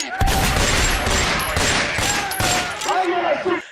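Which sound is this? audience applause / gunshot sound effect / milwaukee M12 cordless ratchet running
gunshot sound effect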